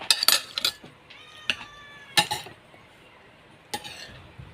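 A cat meows several times near someone cooking tom yum with canned fish, short close cries spaced irregularly over a quiet kitchen background with faint clinks.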